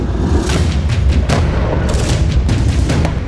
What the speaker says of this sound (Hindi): सबसे पहले तोप से हमला किया गया